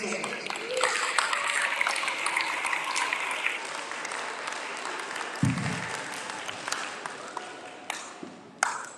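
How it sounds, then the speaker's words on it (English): Applause from an audience at a school Pan African event swells and holds for several seconds, then thins to scattered claps and taps, with a voice speaking over it. "One more round of applause for Mr. Wamabu."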